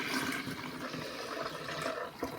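Water being poured from a container to add 1.5 liters for a natural farming wetting agent, a steady continuous splashing rush that runs loud and near throughout with no talk.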